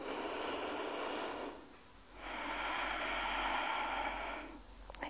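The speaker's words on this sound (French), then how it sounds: "Encore une grande respiration." Deep, slow breathing during a beginner's at-home Pilates session: two long, airy breaths close to the mic, separated by a brief pause, with no speech.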